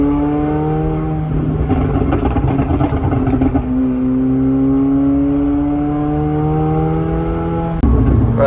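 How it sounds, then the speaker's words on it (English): A loud supercar exhaust revs and climbs steadily in pitch, holding a raspy drone before a sharp, louder burst at the end. "But then just listen to this exhaust note."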